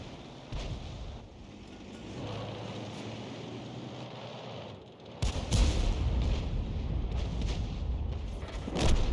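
An M12 105 mm self-propelled artillery gun fires in a tank video game, one heavy boom in the middle followed by a long rumbling roll that swells again near the end, over a low engine-like background.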